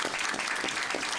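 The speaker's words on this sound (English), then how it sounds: "I don't know if it's legal to applaud at a hearing like this" An audience at a public hearing on immigration enforcement claps in a dense, steady patter of applause, moderately loud and unbroken.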